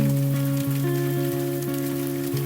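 Rain falls over a city at night as a steady, even hiss, with a soft melodic music bed playing over it throughout.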